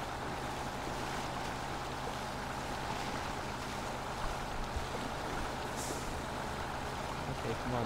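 Low, steady engine drone of a truck in Spintires MudRunner on the boggy map, a continuous rumbling bed with faint splashing texture and no clear gear changes, under occasional quiet talk.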